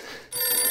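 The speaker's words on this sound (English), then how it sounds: "A phone rings in the room." An electronic telephone ringtone plays during a haunted-house tabletop game session. It cuts in sharply after a short pause, then rings loud, bright and steady to the end, with no talking.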